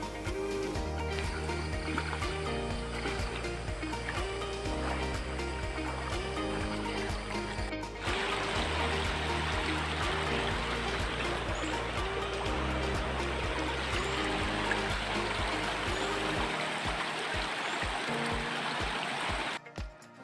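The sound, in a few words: river flowing over rocks of different sizes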